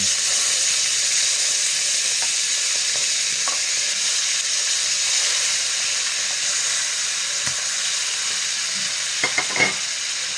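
Chicken pieces frying in a pan with sautéed aromatics for chicken afritada, a steady loud sizzle and hiss throughout with occasional stirring scrapes and clicks near the end.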